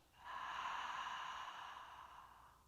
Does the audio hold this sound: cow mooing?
no